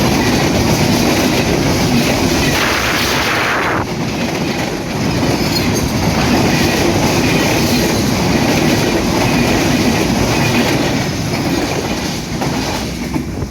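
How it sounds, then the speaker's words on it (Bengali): The 806 Down Silhati Express, hauled by an American-built locomotive, rushes past at high speed: a loud, continuous roar of rolling wagons with rhythmic wheel clatter and some squeal, close by and without talk. "806 ডাউন সিলেহাটি এক্সপ্রেস অত্যন্ত দ্রুত গতিতে ছুটে যাচ্ছে ঢাকা অভিমুখে"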